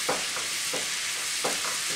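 Ground beef frying in a pan with butter, a steady bright sizzle throughout, broken by a few scraping stirs of a utensil spaced across the clip, close and alone with no talk.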